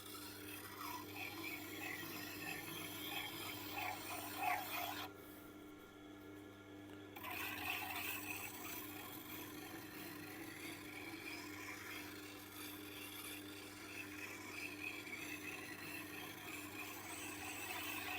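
A sharpener passed gently over a kitchen knife edge to strip the burr, a soft continuous rasping and rubbing that runs steadily for most of the span with one brief quiet break, no talking.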